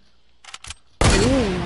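Video game gunfire: two short, sharp bursts of shots, then a loud, sustained volley from about the one-second mark with a whining tone riding over it.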